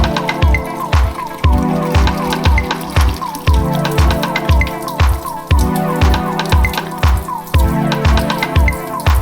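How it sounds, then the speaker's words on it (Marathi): Dirty, sewage-smelling water runs from a municipal tap in a house in a city neighbourhood. It splashes loudly and close by in a fast, steady rhythm of drips and gushes, with no talking. "सोलापूर महानगरपालिकेच्या नळाला आलेलं हे गटारीचं घाण पाणी बघा"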